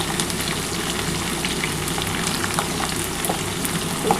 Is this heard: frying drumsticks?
yes